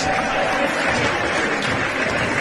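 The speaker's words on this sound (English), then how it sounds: "You're going to hear the crowd now bashing on the chairs. They're up on their feet applauding." An indoor sports crowd at a men's match, Switzerland against Italy, applauds steadily and bangs on chairs, a dense continuous wash of clapping at close range throughout.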